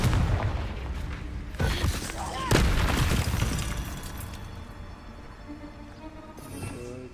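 Confringo spell blasts in Hogwarts Legacy boom loud and sharp, with two big impacts early on. Rumbling debris and crackling effects follow, then a lingering magical shimmer and tonal chime near the end.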